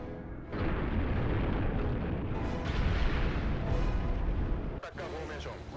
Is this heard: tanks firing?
yes